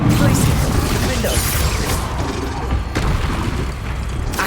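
Hogwarts Legacy spell casting: dense, booming magical blasts and whooshing impacts layered continuously with game music and effects, while a voice calls out spell names over the action.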